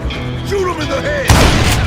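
Gunshots ring out in Call of Juarez Gunslinger, a sudden loud blast after a stretch of voiced game chatter, followed by a continuing noisy burst of fire.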